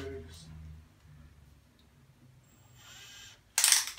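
A cordless drill driver's torque collar is twisted to a new setting during a bathroom radiator fitting, making small ratcheting clicks near a voice, followed by a sudden loud, brief burst of mechanical noise.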